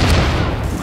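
A single heavy gunshot in the video game The Division, a loud, booming report with a short rumbling tail, heard alone.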